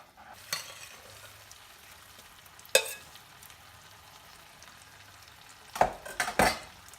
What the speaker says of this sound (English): Just toss it a few times and it's done